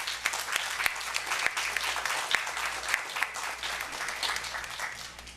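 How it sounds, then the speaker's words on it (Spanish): A concert audience at a children's performance of Peter and the Wolf applauds the percussionists, a moderate, even patter of many hands with a few sharper claps standing out, fairly distant and without speech. "Aplausos también para ellos."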